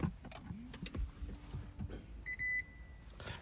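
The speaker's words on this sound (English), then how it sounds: "Well, that wasn't a very dramatic sound, was it? Come on, silly hybrid." A hybrid car starting up quietly, with a short electronic double beep from the dashboard and faint ticks and clicks, but no dramatic engine roar.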